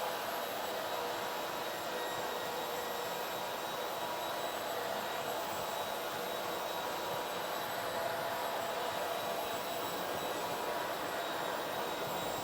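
A Shark Steam and Scrub steam mop runs on a floor with a steady, fairly quiet whirring drone and faint high whine, unchanging throughout, with no voices.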